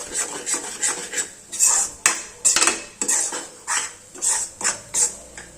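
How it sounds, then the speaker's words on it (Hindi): Besan barfi mixture with mawa being stirred continuously in a kadhai, giving a steady run of close scraping and clinking strokes from the spoon against the metal pan, repeating roughly every half second with no talk. "रुकना नहीं है, हमें लगातार इसे 1 मिनट के लिए चलाना है।"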